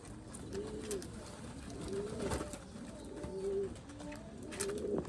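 Domestic pigeons, a red Baghdadi breed among them, coo in repeated low throaty phrases about once a second, close and clear over a steady background hiss with faint higher chirps from other birds.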